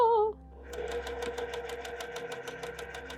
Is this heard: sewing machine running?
yes